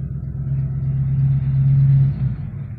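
A 1975 Dodge Tradesman van engine with an exhaust leak runs at a steady idle, a loud, close, deep rumble that swells slightly toward the end.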